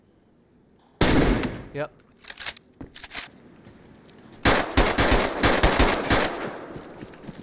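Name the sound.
gunshots in the video game DayZ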